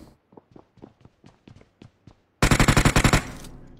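Rapid automatic gunfire in PUBG Mobile bursts loudly after a stretch of quieter clicks and footsteps, a dense rattling volley lasting about a second before fading.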